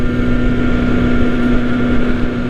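Honda Nighthawk sport bike ridden over a rough road, a steady loud engine drone with a constant hum and rumbling wind and road noise throughout.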